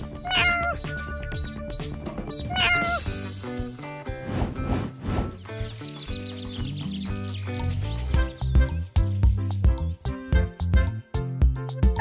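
A cartoon cat meows repeatedly in a rescue scene with a firetruck, with loud, close, drawn-out cries over busy background music and effects.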